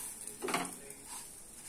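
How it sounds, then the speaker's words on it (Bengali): A spoon scrapes and clinks once or twice against a pan while stirring semolina upma with chopped green chillies, a brief, quiet, close stroke over faint background hiss, with no talk. "এবার একবার নাড়িয়ে নি।"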